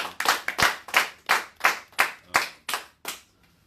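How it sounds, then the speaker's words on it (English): An audience at a live talk-show event claps together in about nine sharp, evenly spaced bursts, loud and close, fading away at the end. "Give them a round of applause."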